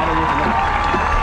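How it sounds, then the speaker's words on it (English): Crowd applause and cheering for the Newton-Conover High School Marching Band at a band competition, steady dense clapping filling the whole moment with voices mixed in. "Let's give another round of applause to the Newton-Conover High School Marching Band."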